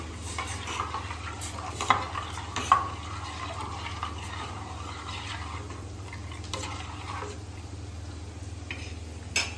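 A spoon stirs besan kadhi in a pot with soft swishing and occasional light scrapes against the metal, over a steady low hum.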